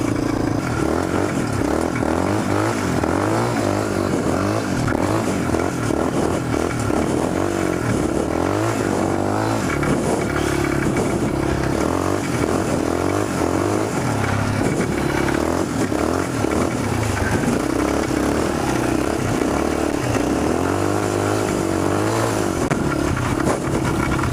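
Snowmobile-engine go-karts tandem drift with a constant loud buzzing engine roar that rises and falls, mixed with rattling and tire scrape throughout.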